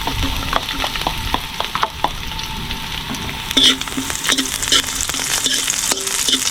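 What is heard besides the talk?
ginger and garlic frying in a pan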